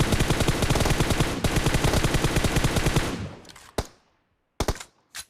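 Dense automatic gunfire from the mobile battle-royale game PUBG Mobile, a rapid continuous burst for about three seconds, then a few isolated loud shots with short gaps of silence.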